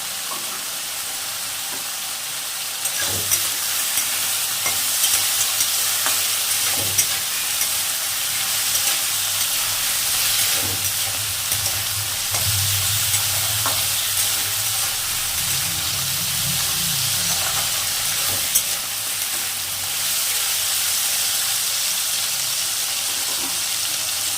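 Homemade lentil dumplings fry with vegetables in a pan, a steady broad sizzle and hiss that runs throughout, with occasional stirring knocks and a slight rise in bubbling midway.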